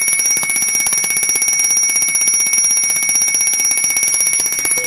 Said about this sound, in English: When your air is low, you will hear this alarm.